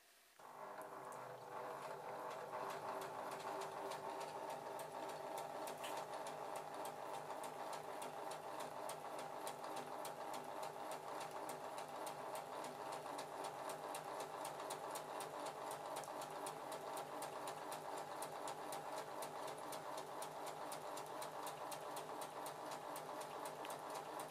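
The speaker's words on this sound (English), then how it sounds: "And now we're just going to sew all the way to the end." A sewing machine runs continuously to stitch along a fabric frill edge, with a rapid, even mechanical whir and clatter that starts abruptly and holds steady throughout, close and unaccompanied by talk.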